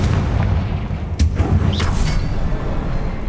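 A Confringo blasting spell exploding in Hogwarts Legacy, one sharp loud burst over a heavy rumbling game backdrop, followed by a brief crackling whoosh.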